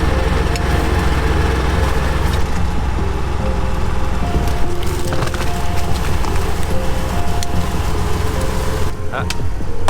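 A Valtra tractor engine labouring hard while pulling a felled tree on a farm, a loud, continuous low rumble with rough mechanical clatter throughout, close by and unbroken.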